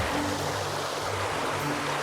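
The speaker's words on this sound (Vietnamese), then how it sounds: "Ô, con suối nó chảy nè." Hot spring water flowing steadily as a stream in Turkey, a broad continuous rushing wash with no breaks, fairly loud and close, with no talking.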